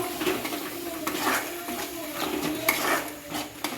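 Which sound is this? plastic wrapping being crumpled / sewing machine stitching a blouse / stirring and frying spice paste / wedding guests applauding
stirring and frying spice paste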